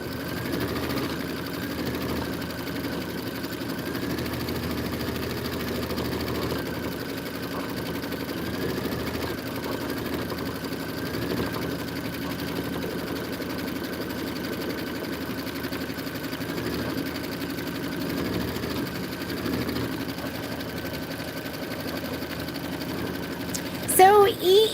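Several multi-needle embroidery machines, including a 10-needle model, run together in a sewing and vacuum shop, making a steady mechanical whir with rapid stitching pulses under ongoing talk.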